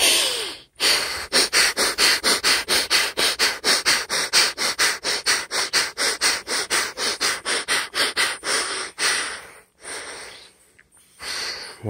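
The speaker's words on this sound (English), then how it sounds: "So let's go to the bellows breathing." Bellows breathing: a rapid, steady train of forceful breaths through the nose, about three per second, close and loud, with a short pause near the start and a slowdown at the end.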